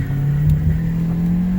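A 2014 Ford Escape SUV with a small EcoBoost four-cylinder pulling away hard from a dead stop, its engine note rising steadily in a loud, close drone with tires briefly spinning.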